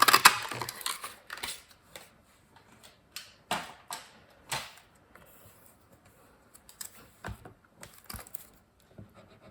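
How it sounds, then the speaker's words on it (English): A craft paper punch cuts a scalloped oval from gold foil paper, making a series of sharp, close clicks and crunching snaps spaced irregularly, with softer handling rustles between them. "And I'm going to punch the scalloped oval with the gold foil paper."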